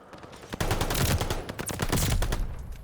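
Rapid gunfire in a ranked video game match, a loud, dense volley of shots that starts abruptly and keeps going without letup.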